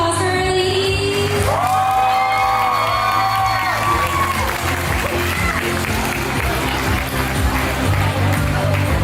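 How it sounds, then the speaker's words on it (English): Audience at a Vietnamese pageant in Florida applauding and cheering for the contestants on stage, a dense sustained crowd roar with shouts and whoops rising throughout. "Can we get a round of applause for our ladies?"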